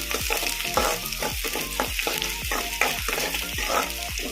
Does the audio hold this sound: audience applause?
no